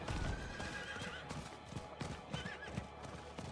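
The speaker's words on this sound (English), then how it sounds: "Now we have a horse." A horse in the video game Diablo 4 clip-clopping along with rhythmic hoof beats, then letting out a whinnying neigh partway through, close and clear over a faint game background.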